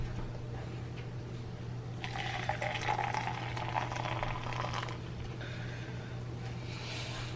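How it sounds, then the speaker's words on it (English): Hot cocoa is poured into a cup, a soft liquid pouring and bubbling that swells midway and then eases off, heard fairly close and quiet over a steady low hum. "Now you just get your cup that you had, and just pour it in."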